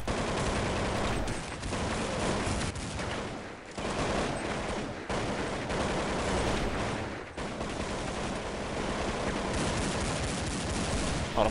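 Dense gunfire in Counter-Strike 1.6, with many overlapping shots forming a near-continuous rattle of fire across the whole stretch and only a few brief dips, loud and close without any voices.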